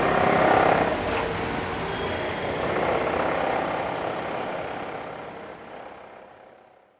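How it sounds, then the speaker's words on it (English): Roadside traffic beside a construction site on a city path near the oceanside in Taipei, with a steady broadband roar of passing trucks and cars, loud at first and slowly fading out toward the end. "obviously I've drifted away from the nice shore to construction on one side, cars on the other"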